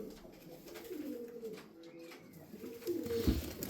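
Tumbler pigeons, the Turkish Miro breed, coo softly and repeatedly, with a louder throaty coo near the end, among faint background noise.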